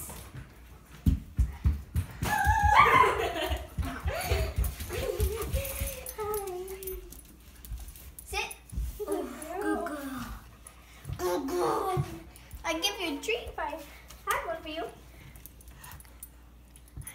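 A small dog whimpers and yips in short bursts, close by, while people talk and keys jangle intermittently.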